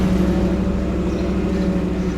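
A 2024 Ford F150 4x4 with a 5.0L V8 and freshly installed Kooks headers idles with a deep, loud, steady exhaust rumble, close up and with no voices.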